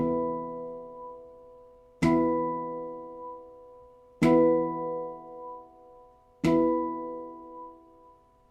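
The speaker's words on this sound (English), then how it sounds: "I'll then use the butterfly effect on it to wobble the sound." Three chords struck on a Halo Aegean handpan, about two seconds apart, each with a sharp attack and a long ringing sustain that wobbles and pulses in volume as the tones fade between strikes.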